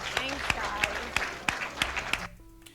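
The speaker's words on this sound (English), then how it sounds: "Let's clap it up for her, baby." An audience at a Jackson State football team gathering claps for a guest speaker, a dense run of applause with sharper accents that cuts off into near silence at the end.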